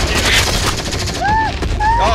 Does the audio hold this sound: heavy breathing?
no